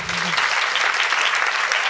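A theater audience breaks into applause at a Yom Hashoah event, a steady, close burst of many hands clapping that carries evenly through the moment.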